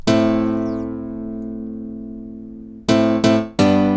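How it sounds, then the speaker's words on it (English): A bright Korg M1 digital piano chord, thin and almost harpsichord-like, rings out and slowly decays, then three more sharp chords strike in quick succession, close and loud. "So here's the M1 piano."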